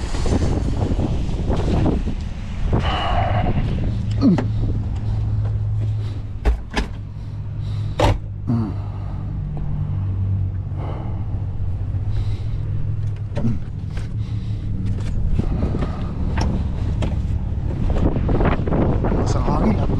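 Strong wind buffeting a vehicle on a snowy Ontario highway during the first snowfall, a steady roaring rumble with gusts and microphone wind noise throughout, loud and close, with occasional faint voices underneath.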